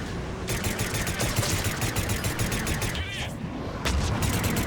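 Rapid gunfire in Mass Effect 3, a dense unbroken stream of shots that stays loud for about five seconds, with brief scraping and whooshing effects mixed in.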